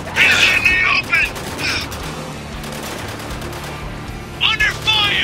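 Gunfire in the video game Spec Ops The Line, a steady stream of rapid shots and rumbling combat noise, with shouted voices breaking in over the firing at the start and near the end.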